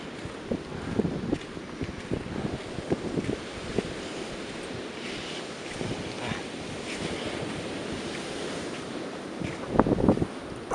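Wind buffets a camera microphone on a beach with big waves, producing steady rumbling gusts and thumps over a constant wash of surf, growing louder near the end.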